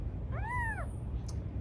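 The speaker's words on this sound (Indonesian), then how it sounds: "dokumentasi anak kucing bengal umur 5 hari" A five-day-old Bengal kitten, eyes still closed, gives a single clear, rising-then-falling meow close by, over a low steady background hum.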